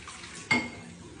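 Dishes and cutlery being washed by a child: a single sharp clink of a pot or utensil stands out briefly over a quiet, steady background.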